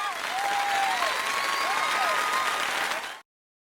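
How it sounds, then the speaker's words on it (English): Crowd applause from the video game Fire Emblem: Three Houses, a dense, steady burst of clapping at a school event, with music tones playing over it, cutting off abruptly after about three seconds. "Once more, please give a big round of applause for our talented participants."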